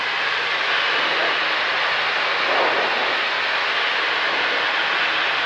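Continuous loud drone of a DR400 light aircraft's engine during a gentle climb, heard from inside the cabin as a steady, even roar with broadband noise and no voices.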